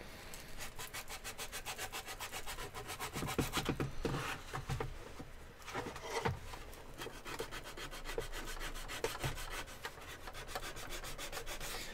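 Wood is hand-sanded in quick, steady back-and-forth strokes, a close, continuous rasping rub with a fast, even rhythm and no talking.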